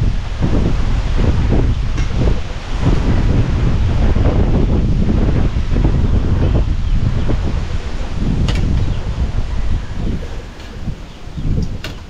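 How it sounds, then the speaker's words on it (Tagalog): Strong wind buffets the microphone outdoors in Calaca, a loud, continuous roaring rumble with gusty surges and no speech over it. "Grabe yung hangin, no?"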